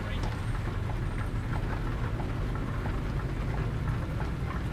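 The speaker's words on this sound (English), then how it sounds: "Rain can be a killer in video games." Steady rain falling in a truck driving video game, a dense continuous patter over a low engine-like rumble, with no clear voices.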